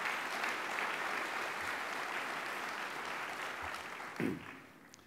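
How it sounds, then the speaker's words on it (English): Steady audience applause fills a hall at a Dallas Holocaust Museum "Hope for Humanity" event, a dense, even clatter of many hands lasting several seconds before thinning slightly at the end. "Let's give you all a big round of applause."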